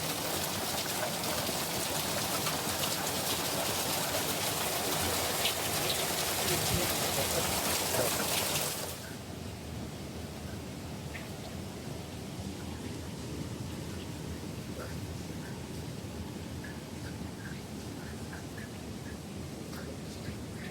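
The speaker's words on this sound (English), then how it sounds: "It's been raining on and off all day." Steady rain pours in a heavy, broadband hiss that drops suddenly to a lighter, quieter patter with scattered drips and drops, near and continuous on an on-and-off rainy day at a campsite.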